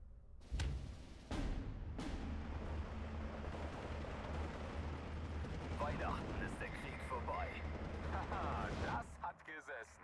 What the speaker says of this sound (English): Too much artillery.